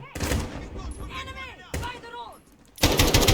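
Rapid automatic gunfire crackles in Call of Duty: Modern Warfare (2019), dense bursts filling the scene with a brief lull before another loud volley, under excited voices.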